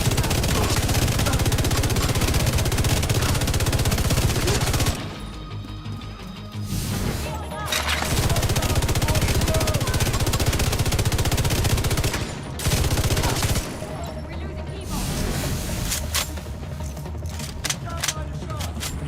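Iron Lung exotic light machine gun firing in The Division 2, a loud sustained automatic burst that breaks off briefly and resumes, rapid and close, dominating the mix.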